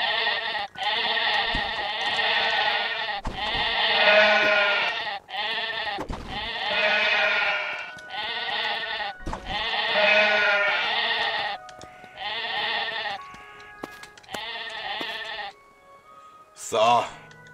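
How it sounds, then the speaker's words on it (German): Sheep in the video game Craftopia bleat over and over, with about a dozen loud, drawn-out cries in close succession that are separated by short gaps and end with a brief higher sound. "Boah, diese Schafe."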